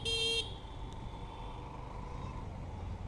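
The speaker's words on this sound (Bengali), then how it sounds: "হর্নটা একদম মনে হইতেছে মাত্র জন্ম নেওয়া একটা বাচ্চা পিপ পিপ করতেছে" A 125cc motorbike horn gives one short, thin, high beep that cuts off quickly, leaving faint background hum.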